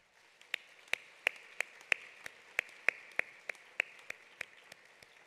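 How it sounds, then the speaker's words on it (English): Sparse clapping from a conference audience at an opening session, about a dozen distinct, fairly faint claps spaced irregularly rather than a full ovation. "Please, colleagues, join me in giving them all a round of applause."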